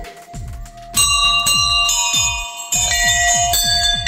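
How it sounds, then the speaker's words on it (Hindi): A metal bell at a Shiva temple in Chikhla rung again and again in an uneven rhythm, each loud, close strike ringing on with bright overtones, with no talk. "घंटी बजाओ"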